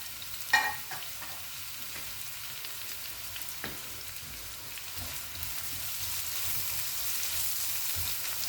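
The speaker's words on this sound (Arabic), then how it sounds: "غادي نضيف الزيت النباتيه. غادي نضيف هاد البورو اللي عندنا." Leeks hitting hot vegetable oil in a frying pan, a brief stir clatter and then a steady soft sizzle that builds slightly and runs on alone.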